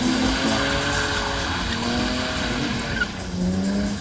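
A BMW E36 M3 coupe's S engine revs steadily and fairly loudly, its smooth tone holding close by without talk, with a brief rise near the end.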